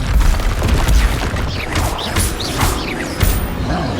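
Confringo blasting spell from Hogwarts Legacy, a loud boom with crashing, smashing debris and magical whooshes in a cluttered flurry of spell effects.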